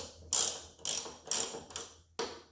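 A hand ratchet tightening the nuts on a car's strut bar, clicking in four quick close bursts followed by one more after a short pause, with no one talking.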